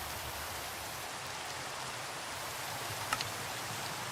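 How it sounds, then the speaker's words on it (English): Rain in Minecraft, a steady, even hiss of falling rain throughout with a single faint tick near the end; no voices. "Minecraft rain is pretty loud"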